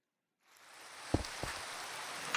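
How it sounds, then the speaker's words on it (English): Rain falls in the Minecraft video game as a soft, steady hiss that fades in from silence and stays faint and even, with a couple of light taps and no voices. "this biome right here is able to have rain"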